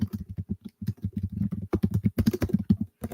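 Rapid typing on a computer keyboard, a dense run of close, crisp key clicks that quickens and grows busier toward the end.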